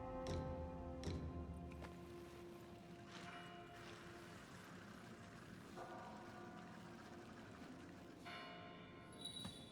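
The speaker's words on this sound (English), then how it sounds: "Ring the bell pinwheel to reunite with Face of Past." A bell pinwheel is rung in the video game Wuchang: Fallen Feathers, giving several resonant metallic chimes at irregular intervals, each one ringing out and fading over soft ambient background.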